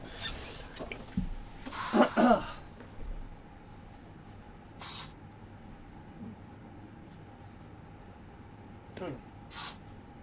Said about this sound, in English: I'm gonna go to another part of my room and spray this.